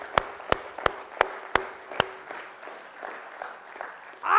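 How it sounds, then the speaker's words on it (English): A handful of sharp hand claps ring out in a slow, spaced rhythm in a quiet hall, followed by softer scattered claps from an audience fading away. "everyone that thinks they're a leader, I want you to clap your hands."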